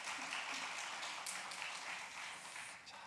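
A church congregation at a Wednesday worship service claps for the praise singers, producing a faint, dense patter of applause from many hands that tapers off toward the end.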